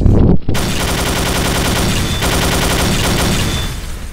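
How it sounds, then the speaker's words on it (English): Rapid, continuous automatic machine gun fire in Counter-Strike: Source rattles loudly for several seconds after a brief pause, dense and unbroken, with a game-like, compressed quality. "it sounds like a machine gun, that was fucking awesome"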